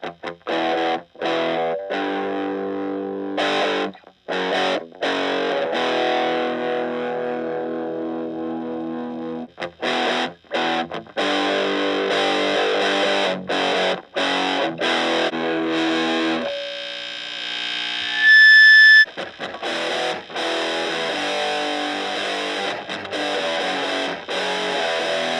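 Heavily distorted electric guitar through a distortion pedal plays chords and riffs continuously, with brief pauses between phrases and a short sustained high note near the end, no talking.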